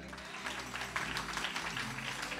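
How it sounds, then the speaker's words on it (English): A church congregation applauds steadily in a large room, dense overlapping claps forming a continuous wash of sound with no pauses. "Clap your hands."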